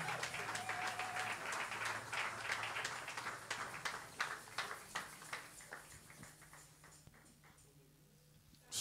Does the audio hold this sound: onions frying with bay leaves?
no